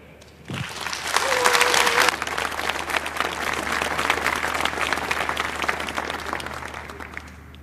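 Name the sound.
audience applause welcoming speakers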